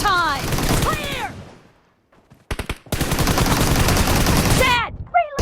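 Bursts of rapid automatic gunfire from the battle royale game BGMI (PUBG) crackle loudly, with a brief lull and scattered single shots before another long volley, while game announcer voices and callouts sound in between.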